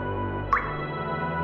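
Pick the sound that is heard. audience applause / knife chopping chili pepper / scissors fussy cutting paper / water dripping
water dripping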